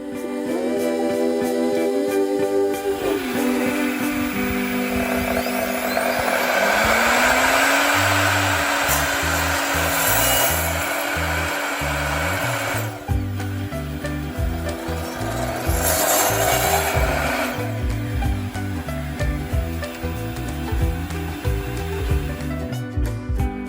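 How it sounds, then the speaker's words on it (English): A tilted miter saw cuts a wooden board at a 45-degree angle, with a loud motor whine spinning up and a sustained rough cutting roar, followed by a fluctuating, lower-pitched drone. "I'm going to be cutting the board at a 45-degree angle, as I mentioned earlier, so tilting the miter saw."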